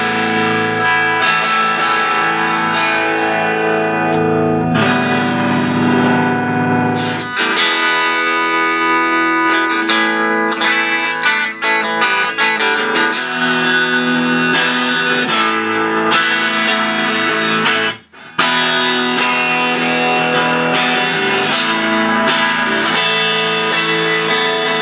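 An electric guitar plays through an amp with the treble turned up and the presence turned down, producing a continuous, loud, distorted tone of sustained chords and notes that runs almost without a break, dropping out briefly once near the end.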